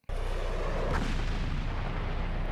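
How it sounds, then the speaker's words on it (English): A rocket fires with a sudden loud blast in a Gundam anime battle at Odessa, followed by a sustained roaring rumble that slowly fades, heard close and alone. "That was just the rocket."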